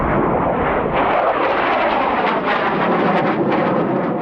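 Airplanes roar through aerobatic stunts at the Smoky Mountain Air Show, a loud continuous engine drone filling the whole stretch with swelling passes and no talk.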